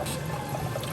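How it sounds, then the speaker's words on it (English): Cold tap water runs steadily over cooked pasta shells in a short, continuous watery rush. The shells are being cooled before they are stuffed with chicken Alfredo and smoked. "we're just gonna run cold water over them"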